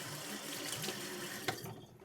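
Water runs from a tap onto a Vermont Grey or Olympus sharpening stone, a steady close splashing stream for about two seconds with a small splash near the end.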